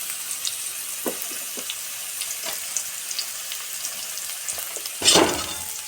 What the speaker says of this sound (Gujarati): ડુંગળીને થોડીક વાર શેકા દઈશું, થોડીક લાલ બ્રાઉન થાય એમ